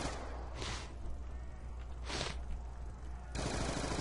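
Sub machine gun fire in Call of Duty Zombies on the Die Rise map, sustained rapid bursts roaring loudly and continuously, with brief louder swells, alone without speech.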